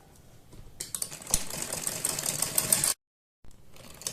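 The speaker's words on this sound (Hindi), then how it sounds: "और इस सिलाई को हम ऊपर तक इसी तरह से दूसरी साइड भी लगाते चले जाएंगे।" Sewing machine stitching a border strip onto fabric cut from an old saree, a fast steady whir of needle strokes for about two seconds, a short pause, then it starts up again.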